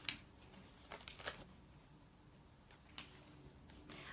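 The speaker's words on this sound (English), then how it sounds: "so I'll just shuffle between these now." A tarot deck is shuffled by hand, giving faint, soft riffling and papery flicks in short clustered bursts against a quiet room.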